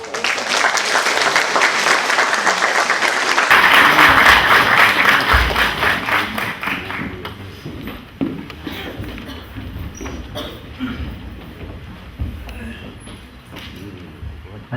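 An audience at a Yongin social welfare policy forum applauds loudly to welcome two association presidents, the clapping swelling and then thinning as footsteps and voices take over near the end.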